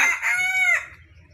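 A rooster crows once, close and loud, a harmonic cock-a-doodle-doo lasting under a second before fading into faint low background noise.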